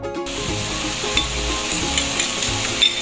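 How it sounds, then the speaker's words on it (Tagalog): Pechay (bok choy) sautéing in a pan gives a steady, close sizzle, with a spatula stirring and scraping through it for the full three seconds, and no one speaks. "Ayan, nagisa na yung ating pichay."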